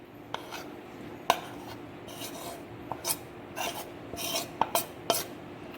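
A spoon scrapes and stirs ground lentil batter in a bowl, giving soft rasping, rubbing strokes broken by occasional sharp clinks against the bowl, close and fairly quiet with no talking.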